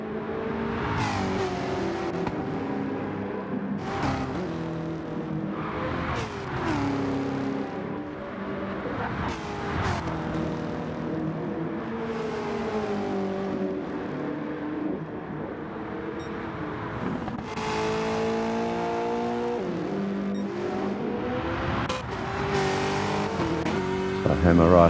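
Race cars in Gran Turismo 7 lap Bathurst with constant revving engines, shifting pitch through gear changes and passing cars, while a commentator talks over the racing.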